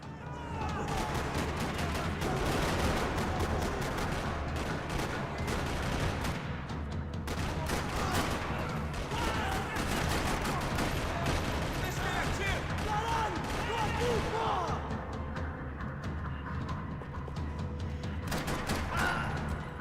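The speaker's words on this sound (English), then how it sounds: "Another parking lot rattling with gunfire." Dense, continuous rapid gunfire with booms and rattling bursts fills the whole stretch in a parking lot in the video game Max Payne 3, with voices talking underneath.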